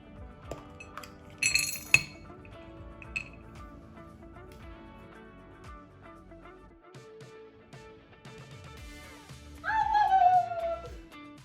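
A homemade Super Mario themed snack is broken open, giving a few sharp clinks and cracks early on, then a louder crunching break near the end, close and with no talk.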